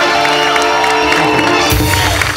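A studio audience at a Marathi comedy show cheers and claps loudly for comedian Johnny Lever, a dense crowd roar that swells toward the end over music.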